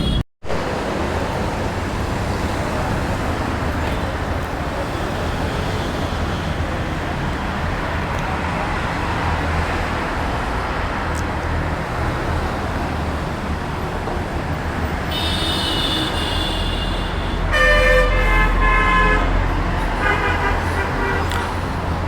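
Steady loud wind and engine rumble from a ride-share motorcycle moving through a road traffic jam, with car horns tooting repeatedly toward the end.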